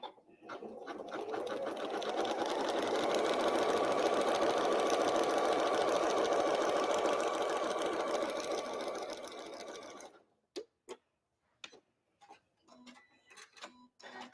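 A sewing machine stitches a Christmas photo album in one long, even whirring run of about ten seconds, then stops, followed by a few soft clicks and handling sounds.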